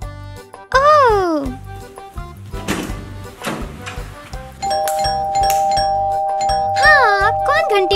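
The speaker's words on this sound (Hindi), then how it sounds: "हाँ, कौन घंटी बजा रहा है?" An indoor doorbell rings with a loud electronic chime, sustained for several seconds, while a child and an adult talk and exclaim around it.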